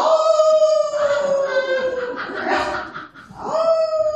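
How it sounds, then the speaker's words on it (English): A dog in a radio drama lets out long, wavering howls and whines with clear tonal pitch. The sound dips briefly in the middle, then the howling resumes loudly. "Look, behind us is a man with a dog."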